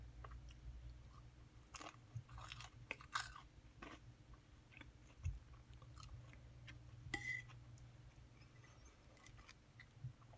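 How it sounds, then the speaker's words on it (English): Crunchy, chewy bread bitten and chewed close to the mic: repeated crisp crunches and mouth noises at irregular intervals, quiet overall, with no talking. "I just wanted you to hear, the crunch on this bread"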